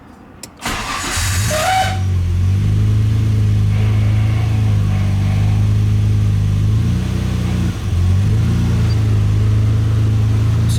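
A Nissan RB26DETT engine, run on thicker oil while checking for low oil pressure, cranks and fires up loudly, then settles into a steady, close idle with a slight dip in the middle.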